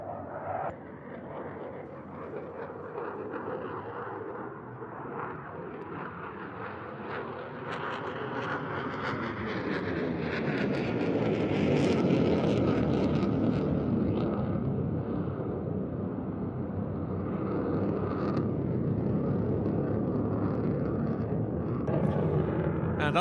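A Belgian Air Force F-16 fighter jet flies at an air show, a loud, steady broadband jet roar that swells over roughly twenty seconds as it passes, with no speech.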